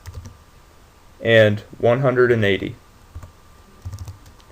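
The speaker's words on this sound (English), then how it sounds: "hitting enter on our keyboard" Light clicks of a computer keyboard as values are typed and Enter is pressed during a CAD drawing session, faint and sparse before and after a short spoken phrase.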